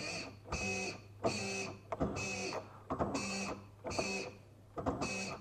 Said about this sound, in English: then we'll see if my motor works.